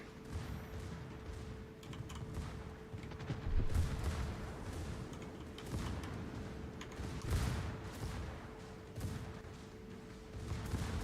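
Warship turret guns fire in the video game World of Warships, with repeated distant booming salvos and thuds rolling under a steady hum of naval battle ambience, fairly faint overall.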